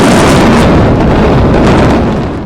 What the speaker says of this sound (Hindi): तेज धमाका हुआ